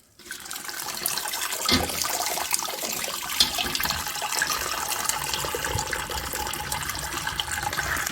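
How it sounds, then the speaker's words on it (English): Home-brew dark ale wort draining from a lifted brew-in-a-bag grain bag after mash out, a continuous splashing, pouring rush of liquid that starts abruptly and runs steadily, close up, with no speech. "straining the worts out the grains"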